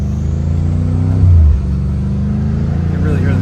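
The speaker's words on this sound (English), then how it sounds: "you can really hear the turbos off of this one, huh?" A turbocharged BMW M5 Competition engine on a test drive, a steady loud low drone of cabin engine noise with a brief swell in the middle.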